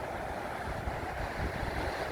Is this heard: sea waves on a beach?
yes